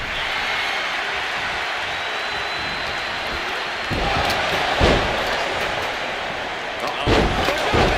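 Large wrestling arena crowd at an NXT event, a steady dense roar of cheering throughout with louder swells and thuds toward the middle and end.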